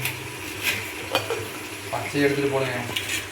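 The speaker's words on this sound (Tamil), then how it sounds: "இப்போ தக்காளி போட்டோமா அடுத்து வந்து இஞ்சி பூண்டு ஒன்றா போட்டுடலாம்." Ginger-garlic paste and tomatoes fry in a pot for mutton biryani, giving a close sizzle broken by clanks of a metal spoon against the vessel and a brief scraping stir near the end.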